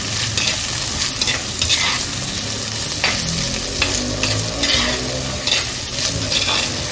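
Onions and green chillies sauté loudly in a mud pot, a dense close-up sizzle with repeated scraping strokes of a spoon stirring them through.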